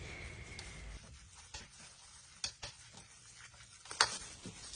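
A sandwich filling mixture stirred in a bowl: quiet, steady scraping with a couple of sharper spoon taps against the side, close and soft.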